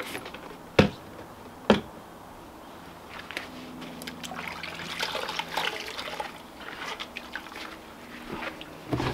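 Warm water trickling and splashing over a caravan toilet cassette during a rinse, with a couple of sharp knocks near the start, then a steady low dribble and splatter close by.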